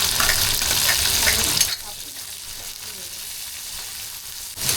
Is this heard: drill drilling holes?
no